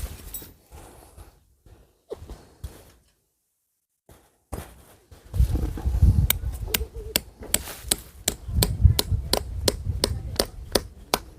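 Tent pegs are hammered into the ground at a campsite in a windy area, sharp repeated strikes arriving in quick regular bursts after some rustling and quieter handling, close and loud.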